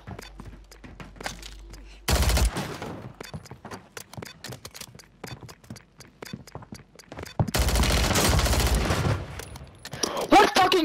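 A Pulemyot LMG fires in a video game: sparse single shots, then two long sustained bursts of loud automatic fire, with a voice speaking in between.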